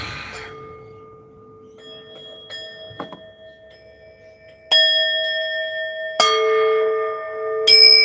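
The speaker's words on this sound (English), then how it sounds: "I can hear the bells." Bells ring out in a series of separate strikes, each leaving a long, resonant, overlapping tone, with the later strikes louder and fuller and no talking.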